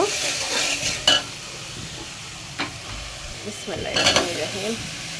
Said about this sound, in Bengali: তারপরে আমি সবজিটা দিয়ে কষিয়ে নিব